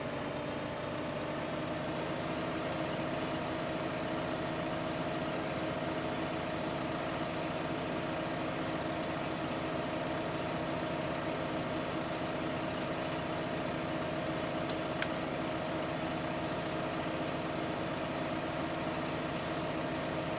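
Tractor engine in Farming Simulator 15 drones at a steady, unchanging idle-like hum for the whole stretch, with no talking over it.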